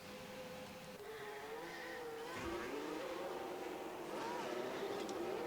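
An F1 car in the game F1 Manager 22 pulls out of the pits at the Monza race, its engine whine rising and shifting in pitch as it accelerates over a steady background roar, with a voice talking faintly beneath.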